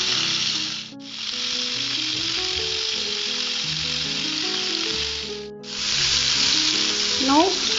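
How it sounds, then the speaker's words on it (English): Galouti kebabs fry in a pan with a steady, loud sizzle that runs almost without a break, dipping twice for a moment as they are turned, with a few faint clinks near the end. "I'm going to flip them now. Fry each side for 2 to 3 minutes."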